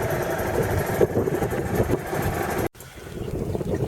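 A sailboat's engine idles steadily at close range, a constant mid-pitched drone that cuts out abruptly near the end and leaves quieter background noise behind.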